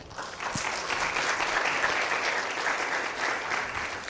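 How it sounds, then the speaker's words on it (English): An audience at a fall university convocation claps steadily, a broad, continuous wash of applause that stays even in loudness from start to finish with no voices over it. "Please give them a round of applause."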